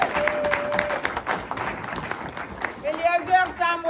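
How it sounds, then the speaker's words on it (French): Crowd at a political party's third-anniversary rally in the DR Congo cheers and applauds in a dense, continuous roar, with shouted voices and whistle-like tones rising near the end. "j'attendais même des acclamations"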